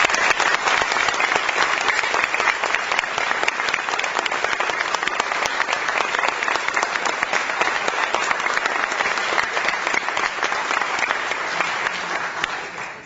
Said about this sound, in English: give a round of applause to all of our recipients again today